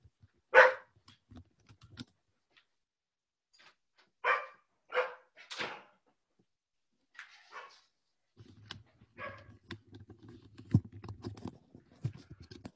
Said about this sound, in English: I don't know if you could hear that, but the dog was barking.